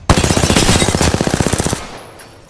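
Rapid automatic gunfire from a weapon in Apex Legends, a dense sustained burst of evenly spaced shots lasting nearly two seconds, then cutting off into a fading tail.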